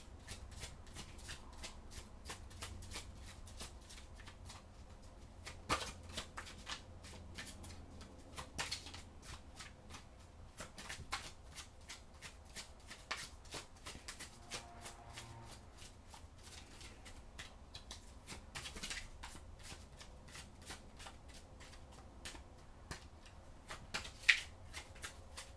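A deck of oracle cards being shuffled by hand, a long run of soft riffling flicks and light taps, close and quiet, with no talking.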